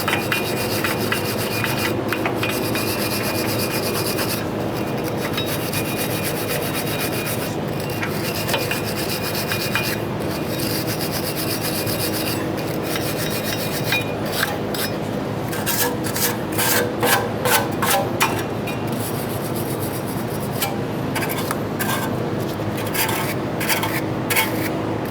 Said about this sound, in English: I'm going to use a wire brush in between the areas of the studs and the hub itself.